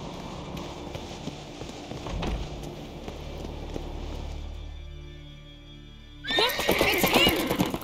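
Horse in The Witcher 3 game, with clip-clopping hooves and movement giving way to a loud, close whinny near the end, set over game ambience.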